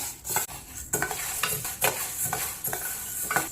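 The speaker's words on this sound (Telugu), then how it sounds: "లో ఫ్లేమ్లో వేయించుకోవాలి. ఇవి వేగుతున్నాయి." Native mung beans dry-roasting in a pan over a low flame, stirred with a utensil: repeated close scraping strokes every half second or so over a faint, steady background hiss, with no voices.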